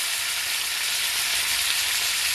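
Pork chops sear in olive oil and butter in a hot pan, giving a steady, loud, dense sizzle that holds unbroken from start to finish.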